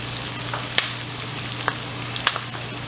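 Onions sweat in a frying pan for ackee and salt fish, giving a constant close sizzle with a few light ticks and taps of a utensil.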